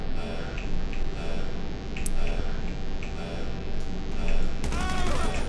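Gunfire in Grand Theft Auto V Online, a few sharp snapping shots scattered over a dense, busy game backdrop, followed by a brighter burst of crackling noise near the end.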